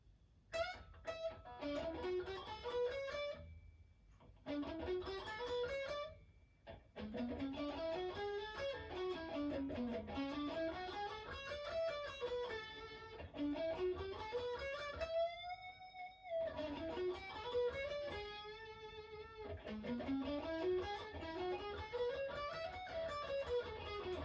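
A distorted electric guitar plays a slow solo of climbing and falling picked notes, with a few brief pauses and bends.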